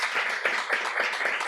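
Audience applause for three poets at the close of a poetry reading, a steady wash of many hands clapping close by, continuous and fairly even throughout.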